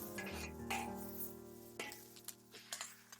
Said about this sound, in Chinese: 下入蒜末、青椒，继续大火煸炒，把辅料的香味给它煸炒出来。